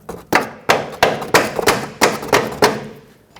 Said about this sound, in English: Now using a hammer, carefully tap it through.